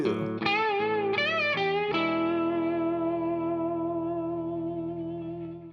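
Distorted electric guitar plays a screaming blues lick in the style of Helter Skelter: a few quick bent notes, then one long sustained note ringing out with effects and reverb, loud and alone.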